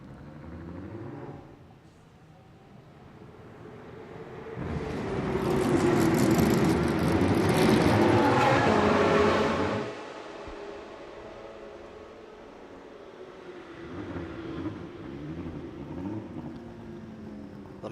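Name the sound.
McLaren GT race car engine during qualifying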